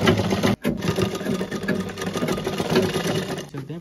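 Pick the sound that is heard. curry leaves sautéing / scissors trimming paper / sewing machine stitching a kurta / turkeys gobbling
sewing machine stitching a kurta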